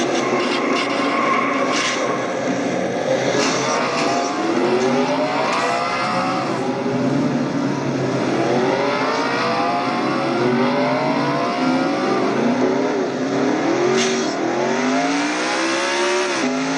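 Onboard view from Jacob Lawler's race car in a Nationwide Series race: a loud, continuous engine roar rising and falling through repeated shifts and revs, with no talk over it.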